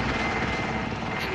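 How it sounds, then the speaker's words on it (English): A helicopter in the video game Warzone drones with a steady, loud rotor and engine roar filling the whole short moment, with no break in the sound. "The chopper's coming."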